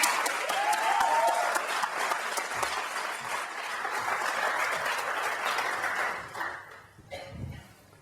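An audience cheers and applauds to welcome Olympic swimmer Michael Phelps at a live event: dense, loud clapping holds steady for about six seconds, then thins out and fades.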